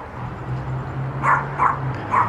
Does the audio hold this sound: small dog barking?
yes